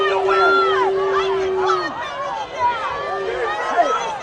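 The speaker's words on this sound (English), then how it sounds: "And you hear the crowd." The crowd at an Earlham college football game against Anderson, a loud, dense mass of cheering and babbling voices with a whistle-like tone early on, continuous throughout.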